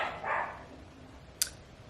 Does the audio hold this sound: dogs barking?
yes